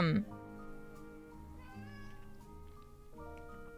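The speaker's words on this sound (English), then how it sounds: "my cat's meowing at me." A cat meows insistently with a long, tonal, wavering cry, heard close and alone with no talking.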